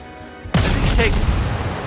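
Torpedo hits explode on a ship in a naval video game, an abrupt loud blast bursting out of quieter background sound and rolling on as a sustained rumble with crackling debris.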